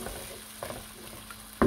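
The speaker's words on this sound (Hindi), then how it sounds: "ऐसे अच्छे से मिक्स करेंगे एक बार" A spoon stirs a chana biryani mixture of potatoes and half a cup of water in a pan, soft scraping and faint sizzling under steady background noise, ending in a louder clank.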